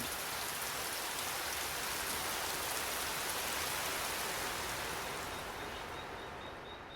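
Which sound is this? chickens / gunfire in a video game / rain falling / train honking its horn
rain falling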